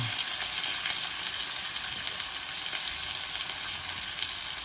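Chopped chillies, tomatoes, green chillies and garlic sizzle steadily in a hot pan for paneer curry, a continuous close crackling hiss with no voices.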